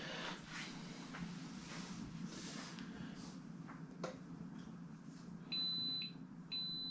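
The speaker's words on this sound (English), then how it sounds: "This is the beep warning to say it's going to pulse." Two short, steady high-pitched electronic beeps from a Ninja Foodi blender and soup maker warning before pulsing sound near the end, following a stretch of low humming and faint clatter while making chilli jam.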